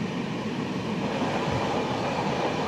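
The 12665 Kanniyakumari SF Express runs along the track, heard from inside the coach as a constant, dense rumble and rattle of wheels and carriage, loud and unbroken throughout.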